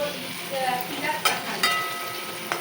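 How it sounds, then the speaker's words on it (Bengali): Pointed gourd (potol) slices frying in a pan, a steady close sizzle with a few sharp stirring scrapes and clicks, no talking. "পটল ভাজা করছি"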